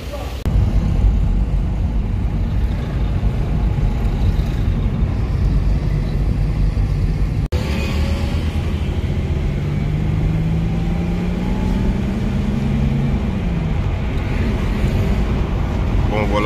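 Mercedes C180 Kompressor cruising on a road trip toward Yamoussoukro, its cabin filled with steady road and engine drone, plus a brief thump midway and a rising engine pitch change later on.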